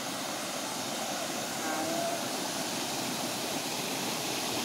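Constant broad rushing roar of a waterfall in Killa, steady and fairly faint, with no speech over it.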